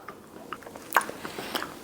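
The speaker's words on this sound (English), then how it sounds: "Testing the Jawline gum here, which has this weird shape." Square-shaped Jawline gum, softer than another gum, chewed close up: quiet wet bites and squishes in an uneven rhythm with a sharper crunch near the middle, and no talking.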